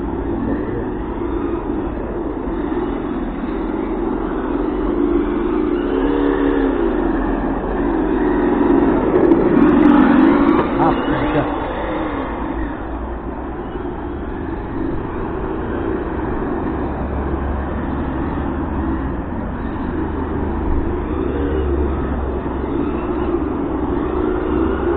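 A Hobao Hyper GT-B radio-controlled car fitted with a sound module is driven on a track. Its steady droning hum swells and fades as it passes, heard at a moderate distance.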